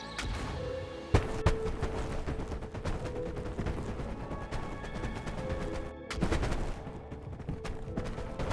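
Grenade explosions in the BoneLab VR game set off among cardboard boxes: repeated sharp blasts and thuds in quick bursts over a busy clattering background, with no talk.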